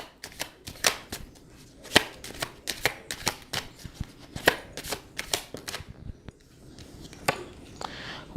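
Tarot cards are shuffled and flicked in a close, dry run of crisp papery snaps and riffles, some sharp clicks rising above a steady shuffle, all without any speech.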